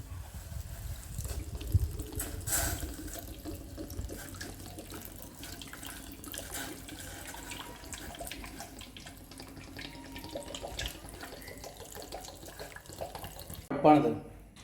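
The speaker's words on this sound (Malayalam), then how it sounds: "അപ്പോൾ കുറച്ച് ഇളനീർ വെള്ളം ഒഴിച്ചു കൊടുക്കുന്നുണ്ട്." Tender coconut water is poured into china grass for elaneer payasam, a steady close trickle running throughout, strongest at the start, ending with a brief louder splash.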